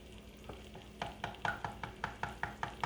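A spatula stirs eggs in a pan for a Spanish potato omelet, making a regular series of soft scraping taps under a faint sizzle, the strokes growing louder and steadier toward the end.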